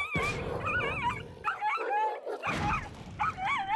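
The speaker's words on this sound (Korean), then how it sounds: "상대 개들도 눈치 없이 엄청 짖어댑니다" Neighborhood dogs bark and yip excitedly in several close bursts, mixed with high whining and whimpers, with short pauses between volleys.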